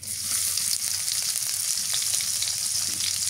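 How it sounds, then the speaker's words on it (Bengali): Onion frying in hot mustard oil gives a steady, loud, close sizzle that holds evenly throughout, with no voices. "তেল দিয়ে দেই, সর্ষের তেল। পেঁয়াজ দিই"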